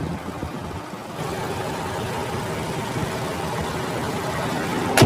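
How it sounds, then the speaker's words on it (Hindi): A 2022 Audi Q7 55 TFSI quattro with a 340-horsepower turbocharged V6 runs steadily, a low, even engine hum that holds constant throughout with no talk. "340 हॉर्स पावर है, V6 इंजन।"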